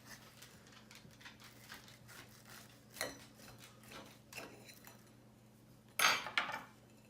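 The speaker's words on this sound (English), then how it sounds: "I'm going to cut this open and see how we did on our Scotch eggs." A knife cuts into a freshly fried Scotch egg on a hard surface, making faint taps and scrapes with a louder crunching cut near the end.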